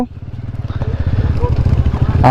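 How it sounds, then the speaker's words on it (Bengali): A motorcycle rides along a jungle track, its engine a loud, close, steady rapid thumping that pulses evenly throughout, with a brief rustle near the end. "আমরা জঙ্গলের মধ্যে এবার বাইক চালিয়ে সামনের দিকে এগিয়ে যাব"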